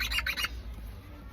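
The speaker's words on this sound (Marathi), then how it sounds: "चिमणी आणल्या हे बघ" Sparrows chirp in a short burst of bright, overlapping calls near the start, then fade, leaving a low background rumble.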